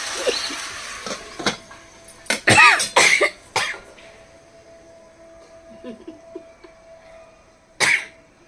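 A cluster of harsh coughs from green chilli fumes bursts out close by, followed by one more cough several seconds later after a quieter stretch.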